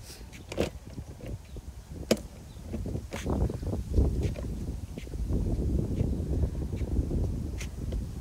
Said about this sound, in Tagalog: Ang hangin po.